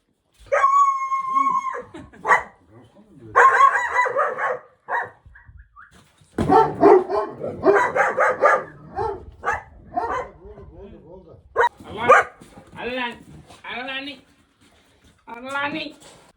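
Dogs bark in scattered bursts in a village yard, some sharp yips among them, while people talk nearby throughout.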